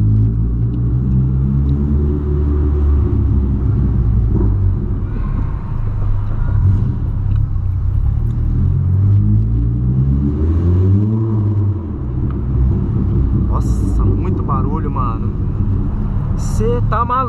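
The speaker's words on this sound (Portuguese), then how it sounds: "Aqui dentro do carro, pra vocês terem noção mesmo de como que faz barulho" Deep, steady sport exhaust rumble from a Volkswagen Polo, loud and continuous from inside the cabin, swelling and dipping with revs, with people talking over it.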